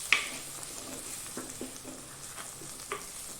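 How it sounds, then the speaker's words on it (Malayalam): Kashmiri chili powder and spices being stirred in a clay pot for fish curry, a soft sizzle running throughout with a sharp scrape near the start and a few light stirring scrapes after, no talking. "ഇളക്കി യോജിപ്പിക്കുക."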